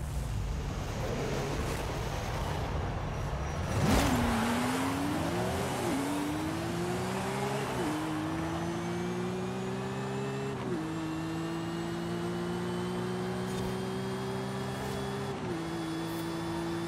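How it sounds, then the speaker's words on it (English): A 950 hp drag-tuned 2005 Subaru STI in Forza Horizon 5 launches hard and accelerates, its engine note climbing through a series of distinct gear shifts in a loud, continuous run. "we are going to do a drag race"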